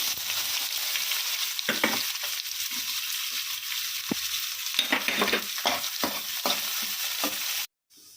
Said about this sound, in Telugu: ఇలా వేగిన తర్వాత ఆనియన్స్ కూడా వేసుకుందాం